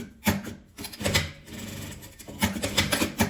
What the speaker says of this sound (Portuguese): Vou costurar ele na base, aqui em cima.